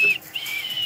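A short, faint whistle is blown to express disappointment, a brief wavering tone that breaks off and returns quietly with no talk.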